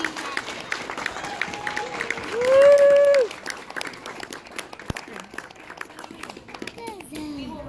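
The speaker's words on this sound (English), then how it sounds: "Can we get a big round of applause for our 2015?" Clapping and cheering from a crowd at a school graduation ceremony for the class of 2015, mixed with children's voices and a brief loud whistle-like tone in the middle.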